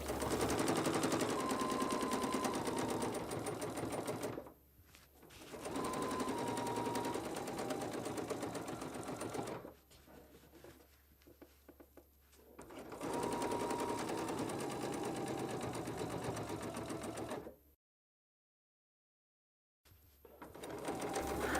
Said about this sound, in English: I am quilting 3/4 inch spaced parallel lines using the 1/2 inch marking on the ruler.